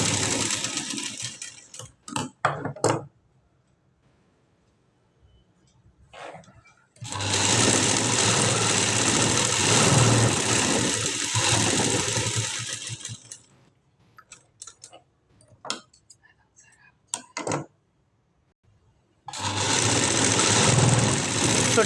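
An electric sewing machine stitching a new-style puff sleeve design runs in loud sustained bursts of rapid whirring, separated by quiet pauses with brief clicks and handling sounds.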